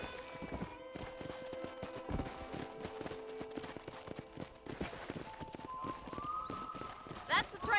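Horse hooves clip-clopping in a steady rhythm in Red Dead Redemption on PlayStation 5, with soft background music and voices talking over the hoofbeats.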